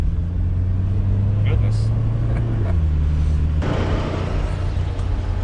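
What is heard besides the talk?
car driving around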